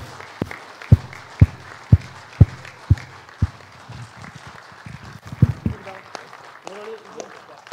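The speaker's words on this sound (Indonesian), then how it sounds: "Tepuk tangan dulu." Rhythmic group clapping at the Labour Party congress, a series of sharp, evenly spaced claps in unison followed by a looser burst of clapping, with voices murmuring in the hall.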